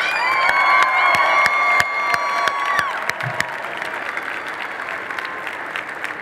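Loud crowd applause for Dean's List finalists, with cheering and whoops, rapid clapping throughout, with high-pitched tones sounding over it in the first half.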